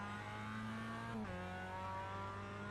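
Mazda MX-5 engine in the iRacing sim, holding a steady high-revving drone, then dipping briefly at a gear change before settling back into a continuous, close, buzzy note with no talk over it.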